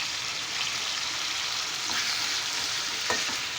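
Tomatoes for tomato pachadi cooking in a covered pan: a steady, fairly quiet sizzle and bubbling with faint stirring sounds, continuous throughout.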